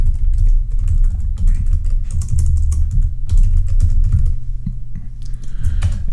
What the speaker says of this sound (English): You can also type